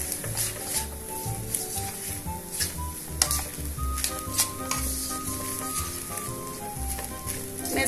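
Rice sautéing in a pan for curry sizzles steadily while a utensil stirs and scrapes through it in irregular strokes, close and continuous with no talking.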